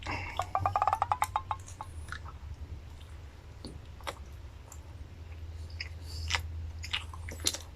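A steamed bun with sauce being bitten and chewed up close, opening with a quick burst of crisp crunchy clicks followed by softer wet chewing sounds and occasional bites, with no talking.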